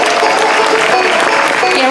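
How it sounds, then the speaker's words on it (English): A festival crowd claps loudly and continuously for a young mandolin player, a close, dense wash of applause with a few cheers mixed in. "How about a nice round of applause on the mandolin"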